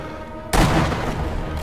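A single sharp sniper rifle shot cracks out in the video game Sniper Elite V2, a sudden loud blast followed by a long reverberant rumble that trails off slowly.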